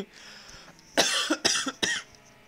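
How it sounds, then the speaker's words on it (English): Three harsh, loud coughs in quick succession, close up, after a quiet moment. "Apologies for the coughing there."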